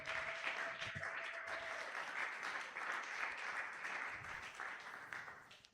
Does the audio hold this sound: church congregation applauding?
yes